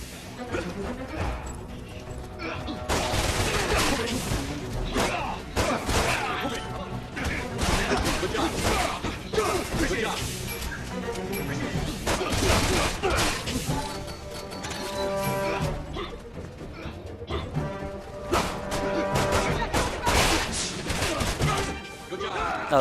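Rapid gunfire and thudding impacts from a Resident Evil 6 shooting sequence, dense and continuous bursts mixed with game effects, while a voice talks over the action.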